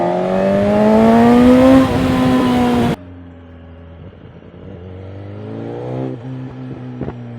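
A BMW M1000XR motorcycle revs hard and pulls up through the gears at close range, loud rising engine notes broken by a sharp shift, then a lower steadier drone that climbs again.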